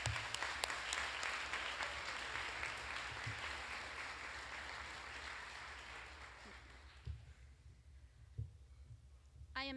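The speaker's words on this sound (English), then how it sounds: "Round of applause again, please." Graduation audience applause, a fairly faint and distant wash of many hands clapping that tapers off after about six seconds, leaving a quieter room with a few stray sounds.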